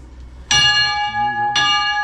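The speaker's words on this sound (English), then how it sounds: "I'm gonna ring that bell." Two loud, close strikes of a bell ring out about a second apart, each with a bright metallic ring that sustains and decays, at the Tanana Valley Railroad in Fairbanks, Alaska.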